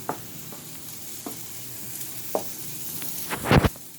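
Hamburger meat and rice cooking in a home pan, with a faint steady sizzle broken by a few soft scrapes of stirring and a louder clatter of the spoon near the end.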